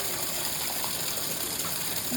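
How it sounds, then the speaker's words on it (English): A spa bathtub fills from its tub fill valve with a steady, loud gush of water that rushes on without a break, close up, with no voices. "activate the tub fill on button"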